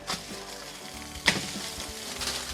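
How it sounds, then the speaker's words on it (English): Burgers sizzle in a pan greased with olive oil cooking spray, a steady close frying hiss with one sharp clatter partway through. "Sizzling very nicely."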